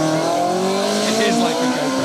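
Ford Fiesta R2 Turbo rally car at speed on an asphalt stage, engine roaring loud and close with tyres squealing through a continuous two-second pass, voices faintly audible beneath.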